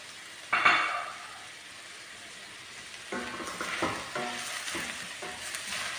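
Chicken fries with masala spices in a pan, giving a soft, steady sizzle punctuated by several stirring scrapes and light utensil clinks.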